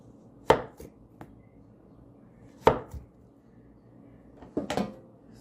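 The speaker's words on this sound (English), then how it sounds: "I'm just going to slice the plantain and just put it right away" A knife cuts plantain into 1-inch thick slices on a board, giving three sharp, close chopping knocks spaced a couple of seconds apart, with softer small clicks between them.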